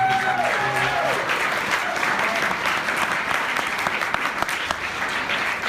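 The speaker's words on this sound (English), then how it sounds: "I would like to just get a round of applause for John Freisiger and all that." A crowd applauds steadily at a public event with Albuquerque's mayor, the clapping a bit distant and even, with a brief tonal sound fading early on and no talk over it.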